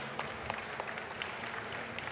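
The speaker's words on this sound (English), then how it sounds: "Maybe we can have a round of applause for them" Applause for the guests at the SimRacing Expo, a soft, distant patter of many hands clapping steadily with a few sharper claps.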